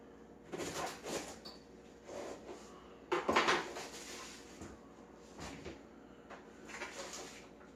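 A knife chopping cabbage in a home kitchen, a few scattered knocks and clatters against the board with one sharper, louder cluster of cuts midway, fairly quiet overall.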